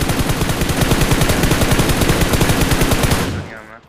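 Sustained rapid automatic fire from an M4 rifle in a battle royale mobile shooter game, a dense rhythmic burst of shots running loud and close for about three seconds before cutting off and fading.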